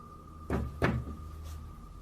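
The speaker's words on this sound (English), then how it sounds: "And the knocking gets louder." Two solid knocks land on wood in quick succession, followed by a fainter third knock in a quiet room.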